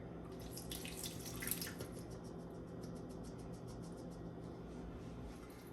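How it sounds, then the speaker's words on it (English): Water carrying leftover steak seasoning pours from a dish into a cooking pot, a steady soft splashing trickle that runs on without a break. "So I'm just gonna add this water with the remaining season to the pot"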